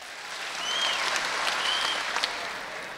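A live concert audience claps and cheers during a rehearsal, building and staying dense for three seconds. A few whistles cut through the crowd noise.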